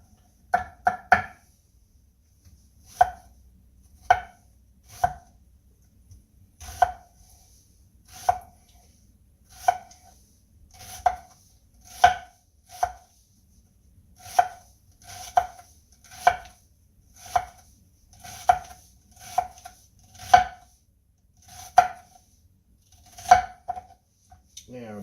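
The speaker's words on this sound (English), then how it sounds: "we're going to take our onion and we're going to finely chop this" A knife finely chops an onion on a cutting board, a series of crisp, evenly spaced thuds about once a second, close and clear, with brief quiet gaps between strokes.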